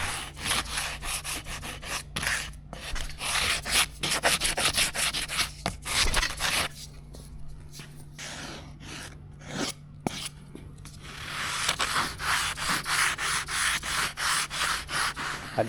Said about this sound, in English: come around here with a sanding block and just sort of shave some of that flash off